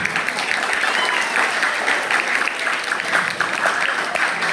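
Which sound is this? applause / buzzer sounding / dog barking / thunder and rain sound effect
applause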